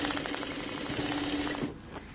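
A sewing machine stitches down the middle of shirring elastic cut from scrap skin socks, giving a close, steady, rapid whirring clatter of needle strokes that runs for most of the moment, then stops abruptly near the end, leaving quiet.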